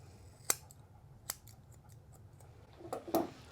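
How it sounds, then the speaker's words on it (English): Scissors snip a sporting dog's tail during grooming, trimming just below the tailbone: a few crisp, close, quiet cuts spaced apart, ending in a quick cluster of snips, with no talking. "So I'm going to trim right below that,"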